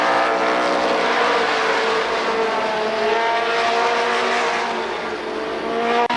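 Stock race cars roar in a continuous, loud engine drone as they lap an oval at Columbus Motor Speedway during the 1994 Memorial Day Classic, holding steady without commentary.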